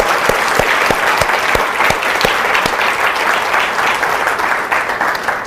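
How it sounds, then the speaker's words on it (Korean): Audience applause at a church leadership conference, steady dense clapping from a large crowd filling the room at constant loudness throughout. "하나님께 영광의 박수 한번 다시 한번 올립니다."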